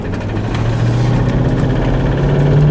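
Engine of a broken Mercedes AMG SUV running with a steady low knocking and vibration, a continuous mid-pitched drone that rises slightly in loudness, close and without talk.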